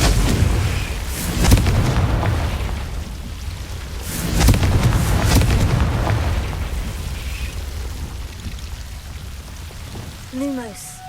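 Explosive blasts of the Confringo blasting spell in the wizarding game Hogwarts Legacy, two or three loud bursts with rumbling, crackling tails over a steady noisy wash, followed by a short chime-like magical effect near the end.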